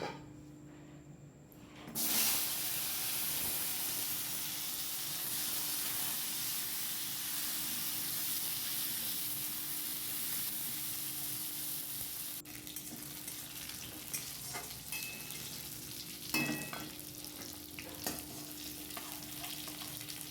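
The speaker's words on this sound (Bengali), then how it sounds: "ওই তেলেই আমি কেটে রাখা পটলগুলো ভেজে নেব।" Sliced pointed gourd frying in oil in the same pan just used for eggs, a continuous close sizzle and hiss with occasional stirring clatter, no talk.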